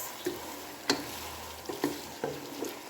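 Spoon stirring pasta with tomato and soy sauce in a pan, a few distinct scrapes and clacks over a soft sizzle, close and clear, no talk.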